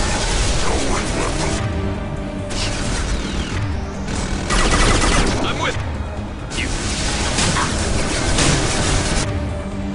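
Continuous sci-fi gunfire from a Mass Effect 2 battle in the Sanctum, dense and loud with bursts and impacts layered throughout, mixed with game sound effects and talk.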